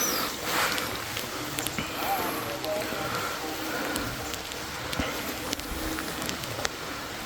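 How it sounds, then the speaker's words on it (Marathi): Heavy rain falling during a trek up Rajgad fort in the Sahyadri hills, a dense steady hiss of drops with wind gusts, close and continuous. "खूप पाऊस आहे मित्रांनो बघा."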